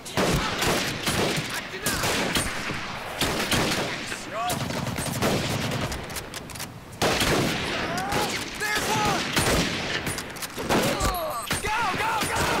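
Dense, rapid gunfire fills a night raid on Makin Atoll in Medal of Honor: Pacific Assault, with loud overlapping automatic bursts and shots continuing almost without pause, and faint voices beneath.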